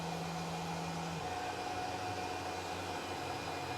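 A Tormach PCNC 1100 CNC mill takes a light finish pass, a steady broadband whir with a low tone that drops partway through, continuous and fairly close.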